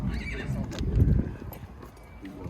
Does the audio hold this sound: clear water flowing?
no